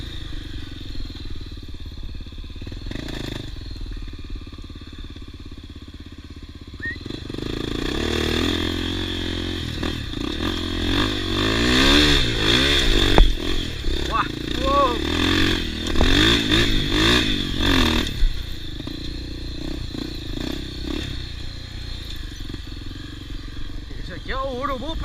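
An off-road motorcycle engine idles roughly, then revs hard in repeated rising bursts at an off-road park show before dropping back to a lower drone, loud and fairly close. Voices talk and shout over it.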